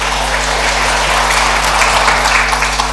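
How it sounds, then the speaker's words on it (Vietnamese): Church congregation applauding at a Protestant service, a steady dense wash of clapping that holds evenly through the whole stretch with no talk over it. "Hãy vỗ tay cảm tạ Ngài."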